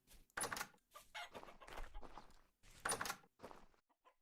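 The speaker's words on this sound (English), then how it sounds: "Wait, there's 2 roosters here?" Two roosters in the survival video game Vintage Story clucking and crowing in a run of loud, close, choppy calls separated by brief pauses.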